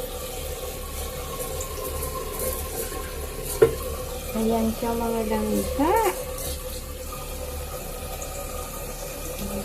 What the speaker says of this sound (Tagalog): Lalagyan natin ng tubig mga langga po.